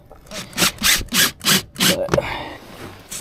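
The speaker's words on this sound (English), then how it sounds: "So this one Joe's cutting right now is actually, it's an overflow essentially" Someone hand-saws PVC pipe for a yard drainage overflow line: about five close, rasping back-and-forth strokes in a steady rhythm, then a sharp knock and fainter scraping.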